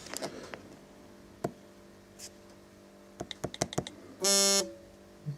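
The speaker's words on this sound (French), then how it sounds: "le vibreur marche" An iPhone 6 Plus vibration motor gives one loud, steady buzz of about a third of a second, preceded by scattered clicks and taps in a quiet room.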